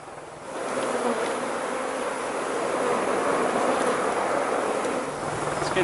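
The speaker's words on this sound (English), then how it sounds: "It's getting a bit crazy with the bees." Bees swarm around backyard smallholding beehives, a dense, continuous buzzing that swells and holds close by, steady and unbroken with no voices.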